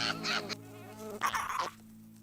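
Cartoon sound effect of flies buzzing around a beetle: a close, whining insect drone in two bursts separated by a short gap, with no talking.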